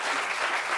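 A brief burst of studio audience applause during a French talk show discussion, dense and continuous for under a second.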